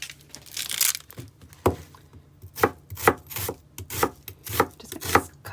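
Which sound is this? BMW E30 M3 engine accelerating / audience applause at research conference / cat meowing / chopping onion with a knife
chopping onion with a knife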